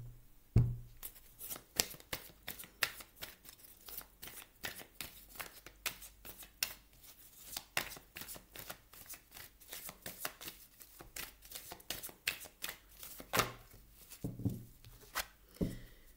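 A tarot deck is handled and shuffled up close: quick papery riffles and soft slaps of cards come in a steady run of crisp bursts over a quiet background, with no talking.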